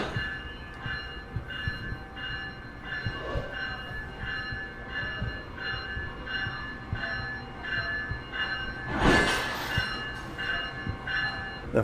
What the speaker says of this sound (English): The final disconnection is taking place, and the electric locomotive is about to depart.